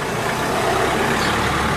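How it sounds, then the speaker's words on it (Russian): Cars on a street in Spain make a steady, loud rumble of engines and tyres, a low continuous traffic drone with no break and no talking. "Машины едут."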